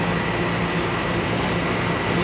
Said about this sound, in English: This is a Euclid Avenue bound C local train.